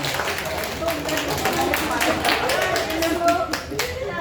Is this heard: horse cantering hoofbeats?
no